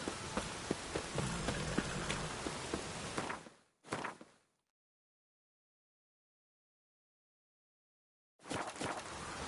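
Steady rain pattering on a surface, breaking off abruptly into near silence for several seconds before the downpour starts again at the end.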